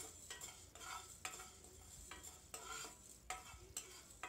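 Chana dal and urad dal fry in a pan for a Karnataka-style bisi bele bath, a soft steady sizzle with repeated scraping and stirring strokes of a spoon against the pan, close and fairly quiet, no talk.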